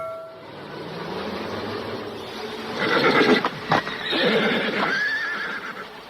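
In a radio drama, a horse gives a loud, drawn-out whinny while hooves clip-clop beneath it, close and prominent with no talk over it.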